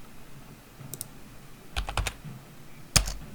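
A number tapped out on a computer keyboard: a few quick, crisp key clicks in two small clusters, the last press the loudest, close and clear against a quiet background with no talk.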